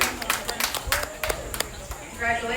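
Scattered crowd applause rings out at a 4-H and FFA livestock show, with irregular sharp claps at moderate distance. Some voices and an announcer-like hum run underneath, and the clapping thins out toward the end.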